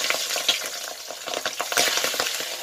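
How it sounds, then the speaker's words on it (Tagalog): Pork butt (kasim) crackles in hot oil, a loud close sizzle with quick spattering pops and stirring clicks, steady across the short stretch, no voices. "mainit ng ating oil guys. Ilagay na natin ating pork. Ingat lang guys ha, tatalsik yan."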